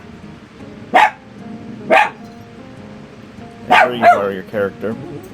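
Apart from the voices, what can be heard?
dog barking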